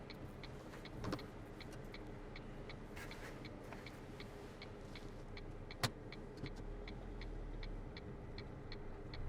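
A car driving on a road during a mock driving test at Maidstone, with a low engine hum throughout and a steady ticking indicator running over it, plus an occasional faint knock.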